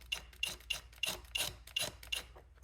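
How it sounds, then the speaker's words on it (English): A screw driven by a drill into the battery cover of a Onebot S1 ebike, giving a series of short rasping, grinding bursts in an uneven rhythm, close and moderately loud, with no talking. "as you're drilling it"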